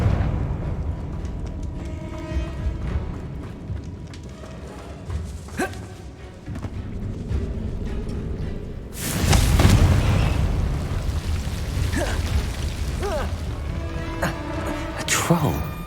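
A Confringo blasting spell explodes in Hogwarts Legacy: a sudden loud booming burst that rolls out into rumble, set among game ambience, spoken voices and smaller impacts.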